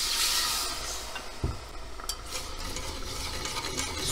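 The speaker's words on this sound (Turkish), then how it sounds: "Sürekli karıştıralım." A pot stirred steadily while milk is slowly poured in, with a continuous soft sizzle and scraping close by and one brief clunk against the pan partway through, no voices.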